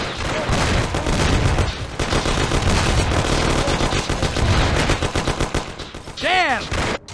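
Gunfire erupts in the crime game Mafia: The City of Lost Heaven: rapid machine-gun bursts and overlapping shots fire loudly and almost without pause, and a brief voice is heard near the end.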